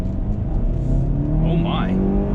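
A car pulls away hard from a stop on a slight uphill, its engine droning steadily and loudly up close, with a rising whine partway through.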